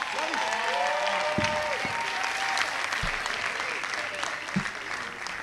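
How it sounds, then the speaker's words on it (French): A studio audience at the Vodacom Superstar singing competition final claps and cheers continuously as a contestant is introduced, dense sustained applause with whoops and shouts and a voice calling over the crowd. "Voici sous vos applaudissements le numéro 5, Fiston Bouygues de Kinshasa."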